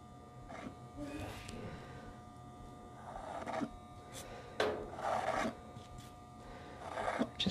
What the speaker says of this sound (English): Just going to scrape off a whole bunch of there.